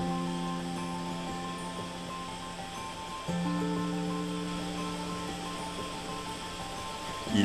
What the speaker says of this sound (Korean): 콧등을 통해 흘러나오는 물줄기는 기존에 우리가 알던 폭포와는 조금 성격이 다릅니다